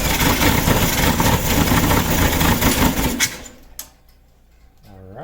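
A freshly rebuilt VW Beetle engine runs loud and rough for about three seconds, then cuts out abruptly, leaving near quiet before a brief rising whine at the close.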